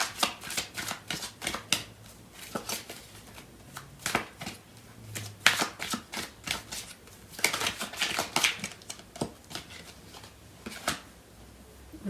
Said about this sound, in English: I'm going to pull out some cards from the other deck to clarify